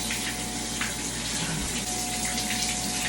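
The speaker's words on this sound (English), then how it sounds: "I'm going to rinse again." Tap water running steadily during a hair rinse on wash day, a continuous close splashing hiss with no speech.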